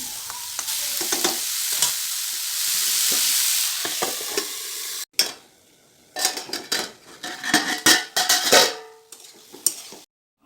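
Ridge gourd and potato pieces sizzle in a pan with a bright, steady hiss. After a sudden break, a spatula stirs and scrapes against the pan in irregular clattering bursts, with no talking.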